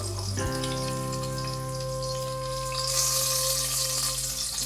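Four cloves and two small pieces of cinnamon bark hit hot oil while cooking sambar rice, giving a steady sizzle under a low hum that swells into a brighter, louder frying hiss partway through.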